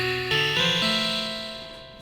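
A bright synthesizer patch made with the Serum soft synth, sustained harmonic tones that shift pitch in short steps and then hold, fading gradually over about two seconds with no talking.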